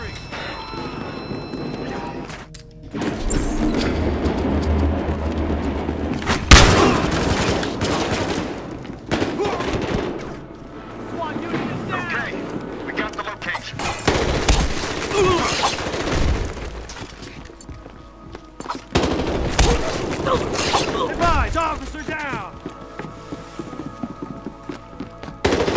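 Repeated gunfire bursts and impacts in a Battlefield Hardline police shootout, loud and dense across the whole stretch, with voices calling out among the shots.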